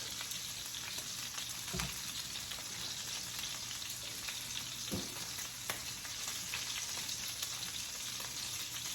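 Garlic sears in butter and pan juices with a steady, close sizzle and crackle, broken by a couple of sharp clatters from the pan.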